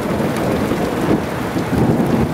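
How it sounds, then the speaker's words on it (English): A thunderstorm with heavy rain in Chopwell, a loud, dense roar of downpour with low rumbling throughout and no voices. "I've never actually seen this storm."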